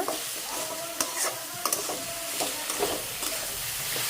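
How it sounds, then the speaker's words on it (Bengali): Small fish frying in a pan, a steady close sizzle with scraping stirs and occasional clinks of the utensil against the pan, no one talking. "দেখ এখানে আবার ছোটো মাছ রান্না করতেছি"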